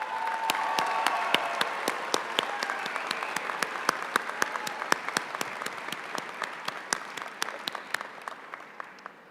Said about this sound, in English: Graduates, let's give your family and friends a round of applause.